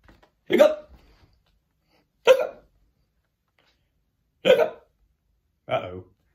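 A storyteller's voice imitates hiccups, four short sharp bursts spaced about a second or two apart, close and loud against silence.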